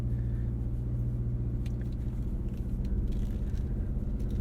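A 2023 Mazda CX-50 2.5 Turbo AWD crawls off-road in off-road mode with its engine at a raised idle, giving a steady, close, low rumble and engine drone and faint scrapes from the terrain, with no talk.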